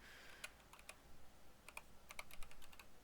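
Keys on a computer keyboard are tapped in short quick bursts, a few isolated clicks followed by a denser run of typing, faint and close in a quiet room with no talking.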